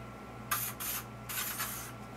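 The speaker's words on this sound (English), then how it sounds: "Add a little bit of the hairspray." Hairspray spritzed onto hair during extension styling, heard as two close, hissing aerosol bursts, the second longer and pulsing, over a steady low electrical hum.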